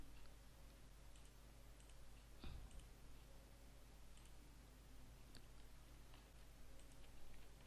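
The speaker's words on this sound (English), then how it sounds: "So I'm clicking." A computer mouse clicks while the Photoshop Magnetic Lasso Tool is in use. The clicks are sparse and faint, with a few soft ticks against a quiet room hum.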